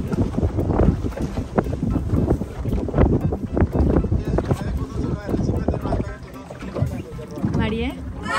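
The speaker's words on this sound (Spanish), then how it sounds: "Estamos en una lancha." Wind buffets the microphone over a steady motorboat engine drone and splashing sea water near a beach, with voices talking throughout.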